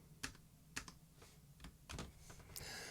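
Someone types briefly on a computer keyboard while copying lines of C code, a few quiet, sharp key clicks spaced irregularly, then a short quick burst of keystrokes at the end.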